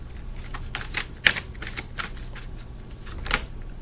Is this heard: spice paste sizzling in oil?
no